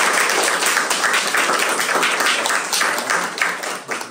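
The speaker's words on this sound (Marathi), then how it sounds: "आपण सर्वांनी मनोमन टाळ्या वाजून स्वागत" Audience clapping in welcome of guests and villagers at a Republic Day programme, a dense sustained patter of many hands at steady loudness, fading slightly toward the end.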